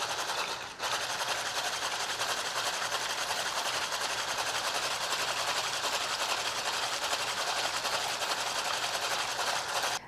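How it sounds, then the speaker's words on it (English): An electric hand mixer whirring at a steady high speed as it beats five egg whites to a froth, a loud continuous buzz after a brief start. "I'm going to beat these to a froth and then gradually add 2 tablespoons of superfine"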